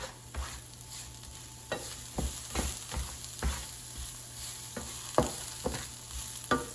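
Portobello mushrooms sauté in a frying pan under a soft steady sizzle, with a utensil scraping and tapping the pan in repeated mixing strokes, close and without talk.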